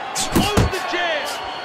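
A single punch thumping home in the boxing video game Fight Night Champion, a sharp close impact under a commentator's voice.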